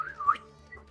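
A person whistles once toward a group during a tabletop role-playing session, a short clear whistle with a rising-falling pitch lasting under a second, heard alone.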